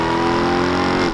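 A 2024 Ford F-150 Raptor R revs with its supercharger whine sitting above the exhaust, a loud steady harmonic drone held close and alone, easing off at the very end.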